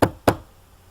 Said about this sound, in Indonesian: terdengar suara pintu diketuk lagi.